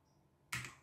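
A computer keyboard gives one brief burst of key clatter after near silence, close to the microphone and fairly loud, fading quickly, with no voices.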